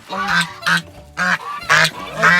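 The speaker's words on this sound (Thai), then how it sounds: "ไอ้ตรงนี้เป็นห่านเทานะครับห่านเทา" Several loud, nasal grey goose honks in quick succession, close by on a farm, with short pauses between calls.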